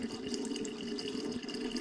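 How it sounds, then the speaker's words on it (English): Water poured into the bottom reservoir of a home cider-making setup, adding about a litre: a soft, steady liquid trickle, quiet and close, no talking. "just put some more water in the reservoir at the bottom"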